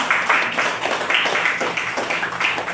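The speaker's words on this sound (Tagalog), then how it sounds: "At pumalakpak nga po sa Diyos." A church congregation at a Sunday service claps for God in a steady rhythmic beat, many hands together in a reverberant room, with no break across the short stretch.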